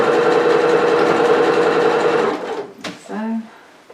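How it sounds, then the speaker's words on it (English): A sewing machine runs fast and loud while sewing frills onto a retro apron, a steady high whir that stops after about two and a half seconds, followed by a brief clunk and a short spoken word. "a curve's an easier option rather than sewing around a square when you're putting frills on"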